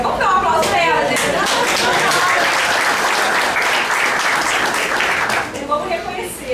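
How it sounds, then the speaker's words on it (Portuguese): A class breaks into loud, dense applause for a student, sustained clapping from many hands filling the room for about five seconds before tapering off into a few scattered claps. "Vamos dar um aplauso pra ela"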